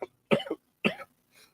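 Three short, dry coughs from one person, close up, spaced unevenly with brief silences between them, the last one softer.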